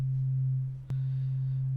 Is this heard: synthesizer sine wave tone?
yes